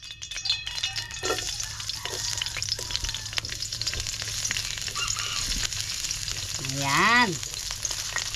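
Garlic, onion and ginger sizzle and fry in hot cooking oil as they are sautéed, a constant loud crackle and hiss up close, with a few brief stirring scrapes, a short spoken word and a rising honk-like sound near the end.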